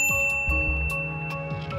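A bright bell ding plays as a subscribe-notification sound effect, several clear repeated chimes ringing out over a steady musical background with no talk.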